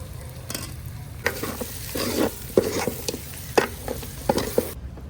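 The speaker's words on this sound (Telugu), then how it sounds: "ఆనియన్ కూడా బాగా వేగింది ఇప్పుడు కారం వేస్తున్నారు" Fried onions with chili powder stirred in a pan for mutton charu: a low frying sizzle under a series of irregular scraping and clacking spoon strokes, close and fairly loud, ending abruptly.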